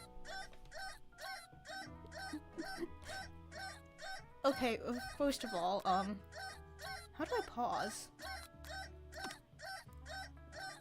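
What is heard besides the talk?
clock ticking in a video game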